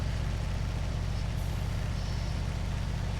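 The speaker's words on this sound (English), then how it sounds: "This beautiful Fiat truck, and she's doing her job" A Fiat truck in Farming Simulator 19 runs with a steady low engine drone, even and continuous with no talk over it.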